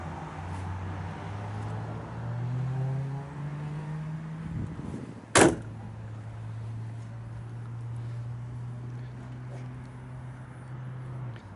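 A 1967 Chevrolet Camaro RS/SS convertible with a 468 big block and aluminum heads gives a low, steady rumble, then a sharp burst as it fires, settling back into an even idle nearby.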